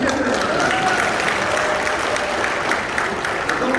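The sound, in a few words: applause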